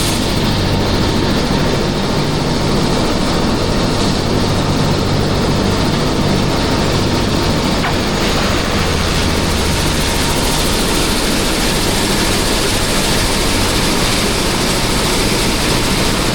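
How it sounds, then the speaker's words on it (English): An airplane near Mount Everest comes in to land with a heavy, steady engine drone, loud and continuous without pause, the low rumble holding level throughout. "Look at this plane coming to land."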